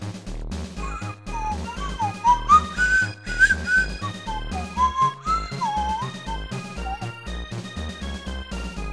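A person whistles an uneven, wavering tune alone for several seconds, with sliding pitches and breathy bursts over a rhythmic video game backing track.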